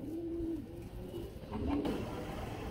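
Cream double-bar racer pigeons cooing in soft, low, drawn-out calls, with one coo early and another near the end over a constant hum.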